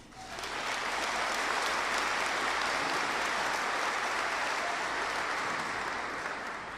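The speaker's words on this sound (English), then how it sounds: "Please join me in a round of applause for their leadership and commitment to Rock Creek." Audience applause at a high school graduation ceremony, a dense, steady roar of clapping from a large crowd that swells in quickly and holds evenly for several seconds before easing slightly at the end.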